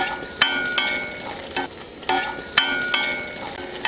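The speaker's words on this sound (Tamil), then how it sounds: "இந்த மாதிரி சின்ன சைஸில் 2 இஞ்சி, அப்புறம் 10 பூண்டுப்பல் இதையெல்லாம் போட்டு வதக்கிக்கலாம்." Ginger, garlic and shallots sauté in hot oil for a paneer gravy, giving a steady close sizzle broken by regular scraping clicks from a stirring spoon, with no voices.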